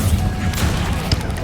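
Bombarda explosion spell cast in Hogwarts Legacy, a dense rumbling blast with crackling debris, loud and sustained across the moment with a sharper burst near the end.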